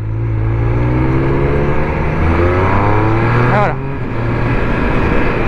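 A Triumph Speed Triple 1200 motorcycle accelerates hard and loud, its engine note climbing in steps as it quick-shifts up through the gears with instant, uninterrupted changes, then the engine tone drops before the bike pulls again. A voice speaks briefly over it.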